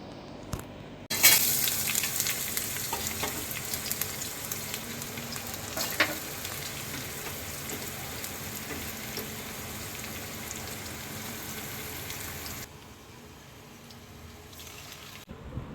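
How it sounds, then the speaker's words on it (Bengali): Lightly reddened fried onions and spice masala cook down in a pan, giving a loud steady sizzle and hiss with a few stirring clicks, then quieting toward the end, with no voices. "আমি এখন মশলা দিয়ে এই যে মশলাটাকে এখন ভালো করে কষিয়ে নিচ্ছি"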